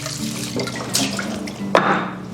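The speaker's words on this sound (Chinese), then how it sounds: "我们先把这个鳗鱼给它清洗干净" Tap water runs and splashes while an eel head is rinsed in a kitchen sink, a close, continuous hiss broken by a few brief splashes and clinks.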